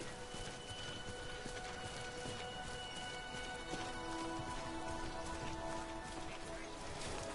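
Steady rain falls in the video game Death Stranding, a dense continuous patter on surfaces that holds evenly throughout, with faint tonal game sounds layered over it.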